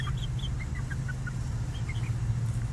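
Bantam hens about 2.5 months old cluck softly in short, scattered chirps over a steady low background hum, fairly faint and at a little distance.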